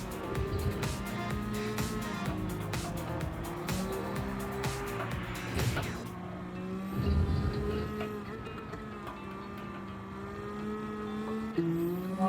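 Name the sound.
BMW Z4 engine in Gran Turismo 7 video game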